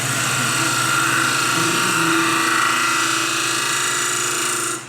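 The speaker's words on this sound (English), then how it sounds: "I'm going to come in with a 1/2" detail spindle gouge" Wood lathe turning a long-necked hollow form with a 1/2-inch detail spindle gouge, the piece held in dovetail chuck jaws; a steady, loud, continuous whirring hum with a cutting hiss runs throughout, fading slightly at the end.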